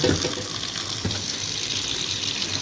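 Tap water pours into a container over dry pasta to soak it before cooking, a short and steady gushing fill heard close up, with no voices.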